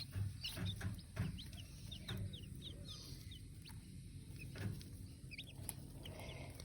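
Newly hatched baby chicks peep in a rapid scatter of faint, high chirps over low, soft clucking from a nearby hen, all quiet and close-miked.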